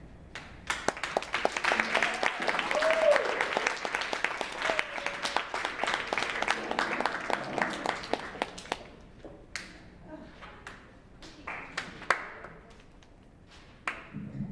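Audience at a poetry open mic claps together in a dense burst for several seconds, then it thins out into a few scattered claps and stray taps.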